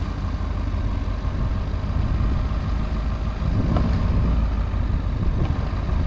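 Ford F250 pickup with a 6.7 diesel idling steadily nearby, a constant low rumble with no change in pitch and no talking.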